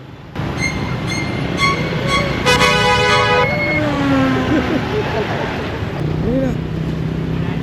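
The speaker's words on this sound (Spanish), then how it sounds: "Moto por aquí, moto por acá. Aquí hay más motos que gente." Dense motorbike traffic on a street in Ho Chi Minh City, with a steady roar of engines, repeated horn toots and high whining tones passing close by, a voice briefly audible amid the loud, continuous street noise.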